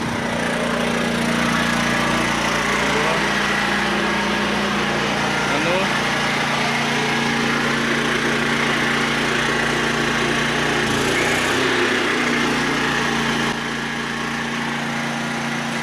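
A HECHT IG 3601 inverter generator runs under a heavy household load of lamps and an 1800 W kettle, giving a steady, loud engine drone with a constant hum that persists unbroken throughout.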